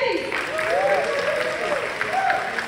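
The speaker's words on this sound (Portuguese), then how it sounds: "Palmas com eles!" Audience applause at the Semana Geek convention in São Paulo, a steady wash of clapping that fills the short moment while a singing voice carries over it.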